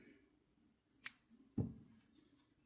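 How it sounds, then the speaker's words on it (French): Scissors cut crochet yarn after a chain stitch on a crocheted cardigan. Two quick, faint, close snips sound about half a second apart against a quiet background. "je vais faire ici une maille en l'air et je vais couper le fil"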